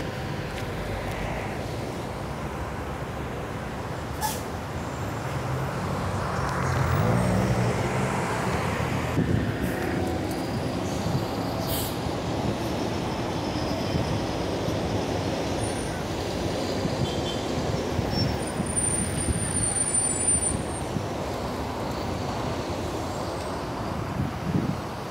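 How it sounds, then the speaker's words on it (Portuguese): A São Paulo monorail train passes near a bus terminal at night, a steady broad rumble and hiss lasting the whole stretch amid traffic, with no talk. "Aí o trem do monotrilho de São Paulo."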